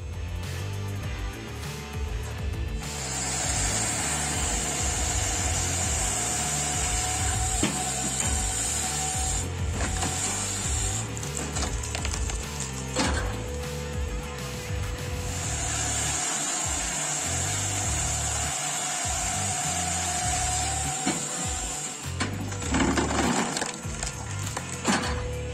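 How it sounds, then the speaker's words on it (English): A firewood processing machine splits logs with continuous mechanical whine and clatter, sharp wooden cracks and splintering over a steady engine drone, loud and close, with no talking. "Halverson firewood processors save time and money, and reliably prepare ideal-sized logs with minimal effort."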